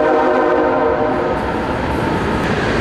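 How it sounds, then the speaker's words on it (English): A train rumbles close by with a sustained, loud horn blaring over the rolling wheels, steady throughout the short stretch. "there's a train coming, so hang on a second"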